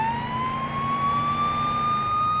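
A police car siren from the Police Simulator: Patrol Officers game wails continuously in a steady rising tone, loud and close, over a low engine rumble, with no talking.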